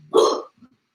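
A single short, sharp dog bark sounds nearby indoors, followed by a faint trailing noise and then silence.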